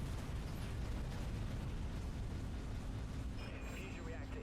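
Dreadnought warship weapons fire and explosions form a continuous heavy rumble of guns and blasts, with a voice talking over the battle noise and a faint whine rising near the end.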